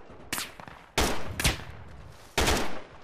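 Gunfire from the Project Reality video game on the Goose Green map rings out in three sharp bursts of rapid shots, each spaced about a second apart, loud and close with faint background noise in between.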